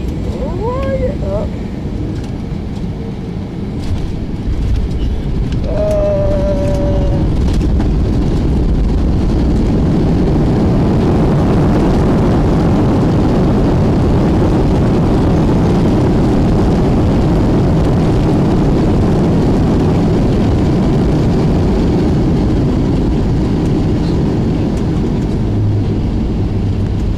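Passenger airplane landing at Grand Cayman airport, a loud steady cabin roar of engines and rushing air that swells during rollout, with brief voices in the cabin early on.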